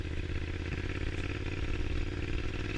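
A Triumph Scrambler 865cc motorcycle riding off-road on dirt, its engine a steady, loud, close rumble with crackling exhaust and clattering throughout.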